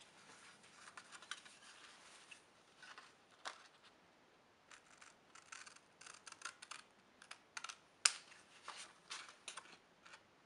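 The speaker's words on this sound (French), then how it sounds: "Et on vient les découper." Scissors snipping through paper pieces for a handmade portfolio, a close series of quiet, crisp irregular cuts and small paper rustles, with no talking.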